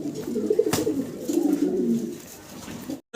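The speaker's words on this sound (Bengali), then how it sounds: "চমৎকার এক জোড়া লাহোরি কবুতর" A pair of red bar Lahori pigeons cooing close by, soft rolling low coos repeated through the clip, with a brief click near the start and no one speaking.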